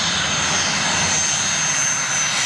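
A twin-engine BAe 146 jet airliner arriving, its engines producing a loud, steady, broadband roar with a high whine, heard close and continuous throughout.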